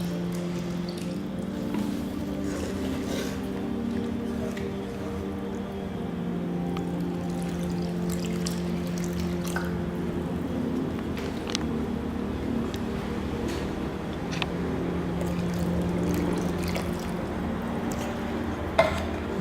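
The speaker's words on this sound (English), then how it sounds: "So you just slowly stir in your milk" Milk is slowly poured and stirred with a wooden spoon into sweetcorn soup in a pot, giving a steady soft liquid swirl and gentle scraping under a constant low kitchen hum, with no talk.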